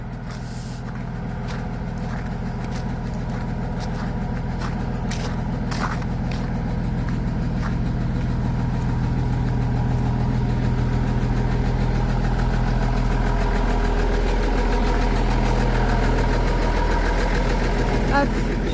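A truck sits idling in the snow with a steady, low engine rumble running the whole time, and brief sharp knocks are heard near the start.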